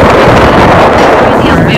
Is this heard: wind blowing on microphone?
yes